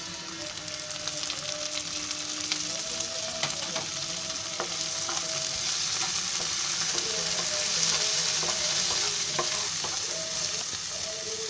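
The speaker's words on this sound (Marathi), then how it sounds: "आणि त्याच्यामध्ये आता ही टोमॅटो टाकते." Tomatoes frying in a hot spiced tempering for vegetable semolina upma, a dense continuous sizzle and crackle close up, steady throughout with occasional stirring clicks and no talk.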